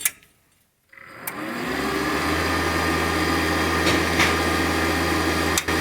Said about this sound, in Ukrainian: Жужжать вентилятор тут трошки ну, по-своєму, але теж він не тихий.